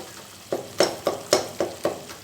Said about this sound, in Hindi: टमाटर को हम अच्छी तरह मैश कर लेंगे और एक अच्छा सा हम भुना हुआ पेस्ट, इसका मसाला तैयार हो जाएगा